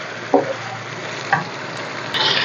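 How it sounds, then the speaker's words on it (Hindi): Garlic, ginger and chilli paste frying with chicken for Sindhi biryani, a continuous close sizzle with two brief stirring clatters and a louder burst of hiss near the end. "अब इसको चिकन के साथ हम भूनेंगे।"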